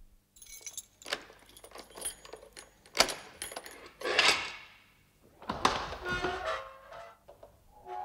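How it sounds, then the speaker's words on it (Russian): Keys jangle and a door is handled in a radio drama, with several sharp metallic clinks and clatters, a scrape, and a brief rattle, moderately close, with no talk over them. "Пожалуйста, откройте дверь."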